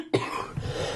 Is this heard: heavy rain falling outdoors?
no